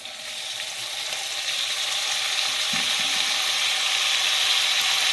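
Tomatoes, curry leaves and coriander frying in a pan for tomato kuzhambu, producing a loud, dense, continuous sizzle that builds slightly and holds steady throughout.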